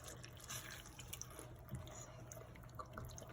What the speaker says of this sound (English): This is coconut milk that we just poured in.